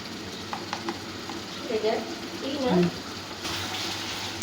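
Chopped onions frying with ginger-garlic paste while being stirred for pulao, a soft sizzle under scraping strokes and a few clinks, with faint water-like hiss toward the end.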